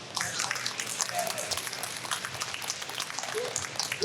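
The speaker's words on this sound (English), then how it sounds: "Applause, everybody." Convention panel crowd applauding for the 1987 Teenage Mutant Ninja Turtles voice cast at Nostalgia Con Anaheim, a steady wash of clapping with voices talking and cheering over it.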